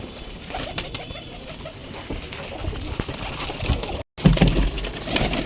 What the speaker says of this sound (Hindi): ये देखिए, ये कबूतर है।